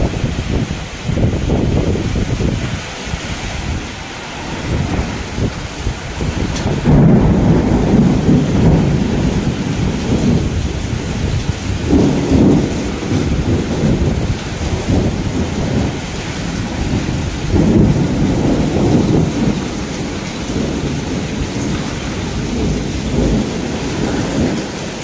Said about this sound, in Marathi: किती वाराचा पाऊस आहे बघा.